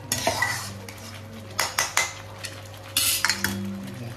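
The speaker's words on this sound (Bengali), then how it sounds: "ভালো মতন করে মশলাটা কষাই" A utensil scrapes and knocks against a pan while spicy Bengali-style prawn masala is stirred and fried, in several sharp, close bursts over a low background sizzle, with no voices.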